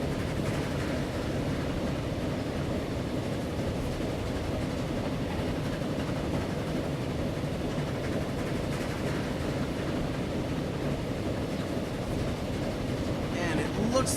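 A Prussian steam train from 1878-79 runs in the Transport Fever rail game with a dense, continuous rumble and rattle at a steady level, and a voice talks over it.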